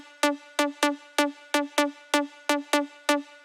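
Sawtooth synth lead from a melodic house intro, two octaves playing with filtered noise for extra click, striking about ten sharp plucky notes in a steady repeating rhythm, each with a bright attack and short decay, alone without voices.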